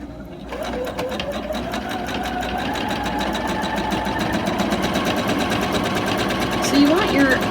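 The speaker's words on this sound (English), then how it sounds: "when I'm doing my free motion quilting" Sewing machine running steadily through free motion quilting on a cathedral window throw pillow, a continuous fast-stitching whir held at an even pace throughout, close and fairly loud, with faint talking audible beneath it.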